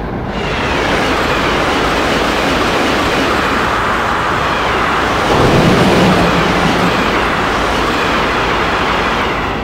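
BR 151 electric locomotive running in Train Simulator 2016, a loud, steady rumble of rolling wheels and traction noise with a faint tonal whine rising midway, continuous and close, with no talking.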